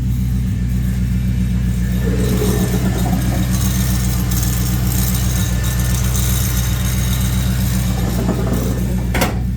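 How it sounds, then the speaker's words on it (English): A Chevrolet Tahoe engine idles with a steady, loud, low drone, and a constant AC compressor whine runs over it without a break. "AC compressor."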